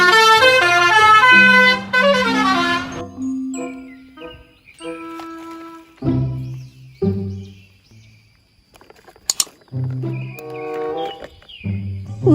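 A toy city bus sounds its horn, a bright electronic melodic jingle followed by a series of short beeping honks and chimes, loud and close with brief pauses between bursts.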